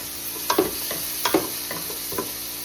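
Garlic fries in a pan as the first step of a jackfruit dish in coconut milk. A low, even sizzle is broken by a few light scrapes of a utensil, spaced roughly every second.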